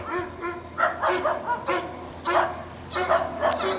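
A dog barks repeatedly and close by, with sharp, evenly spaced barks and short yips over several seconds and no talking.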